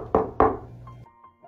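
Two firm knocks on a hotel room door, about a quarter second apart, sounding close and fairly loud, followed by a faint room tone with no talking.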